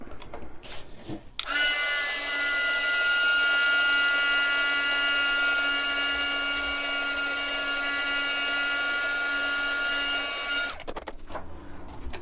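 A heat gun melts embossing powder at close range, its steady whirring blower starting abruptly, holding an even loud drone with a faint tonal hum for about nine seconds, then cutting off.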